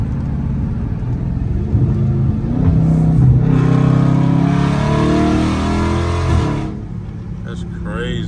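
A Dodge Charger Scat Pack's engine revs hard with a deep, loud rumble that builds and sustains for several seconds, heard from inside the car with the window cracked, then eases back toward idle.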